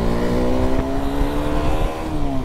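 A motorcycle engine revs steadily while riding on a road trip, a loud close drone with a slowly rising pitch, with no talk.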